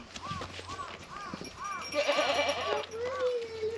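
Goats bleating repeatedly while being fed in a snowy winter setting in Japan, a series of short nasal calls at moderate distance, with people talking in between.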